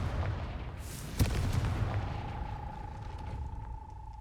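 A Confringo fire spell blast from the video game Hogwarts Legacy, a sharp impact near the start followed by a booming, crackling rumble that settles into a steady tone.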